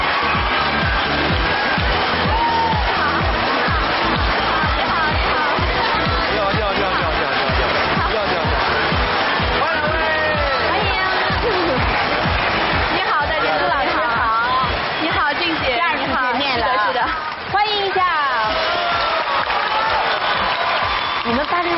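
A television talk-show studio audience breaks into warm, sustained applause welcoming guests onto the stage, dense clapping filling the room with voices mixed in throughout.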